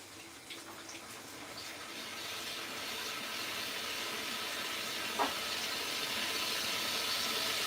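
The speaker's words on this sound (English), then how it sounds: "I'm going to put boiling water again." Boiling water pours steadily into a pot while making chuchu soup, a continuous broad hissing, splashing rush that holds fairly loud and even throughout with no talking.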